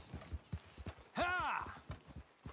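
Horse hooves clip-clop in Red Dead Redemption 2, a steady walking rhythm of soft thuds with a horse's neigh rising through the middle.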